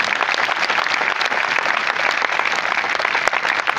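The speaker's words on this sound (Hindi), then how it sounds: "उनके लिए एक बार जोरदार तालियां हो जाए दोस्तों" Loud, dense applause from a large audience at a motivational talk, a steady wash of many hands clapping without a break.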